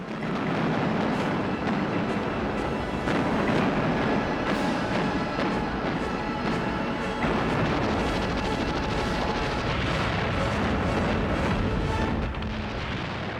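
Anti-aircraft guns firing at Japanese aircraft during the Battle of Midway in 1942, a dense, continuous barrage of booming bursts and explosions layered over a roaring background, loud and without speech.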